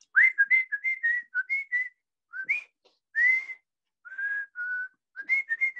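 A person whistles in imitation of a Mazatec whistled conversation between two people in the mountains, a close, clear series of short melodic phrases with rising and falling pitch and pauses between groups.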